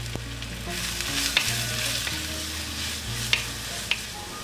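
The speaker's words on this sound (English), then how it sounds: "Saute till the raw smell goes." Green chilies, curry leaves and sliced onion sizzle and fry in a pan on the stove, a steady close hiss with a few soft stirring knocks and scrapes of a spoon, no voices.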